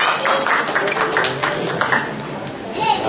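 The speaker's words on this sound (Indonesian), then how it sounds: "Kita beri tepuk tangan buat anak-anak." Church congregation applauds the children during a service, a broad wash of clapping and crowd murmur that carries through the whole stretch, partly under a speaking voice.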